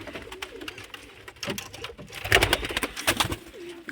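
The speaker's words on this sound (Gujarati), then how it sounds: "આપણા અંદર કબૂતર બહાર નીકળી ગયા છે" Pigeons coo nearby in soft, low, repeated calls, with a few louder bursts of cooing and light rustling; no one speaks.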